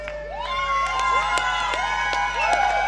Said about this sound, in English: give them a rousing applause